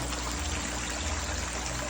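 Water gushes strongly into a large tank, a dense, steady rushing flow that stays loud and unbroken throughout, with no voices.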